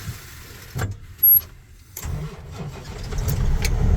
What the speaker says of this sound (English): what we're going to do is start the truck